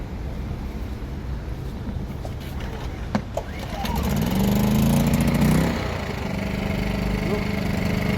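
A small Genergy Limited 1500i petrol inverter generator runs steadily with a low, even engine hum, close by and fairly quiet, its tone rising slightly partway through before settling back.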